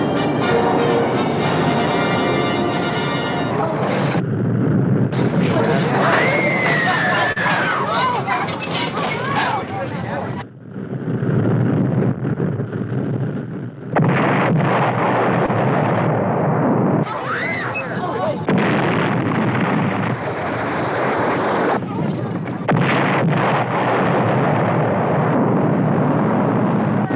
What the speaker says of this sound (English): they're launching the missiles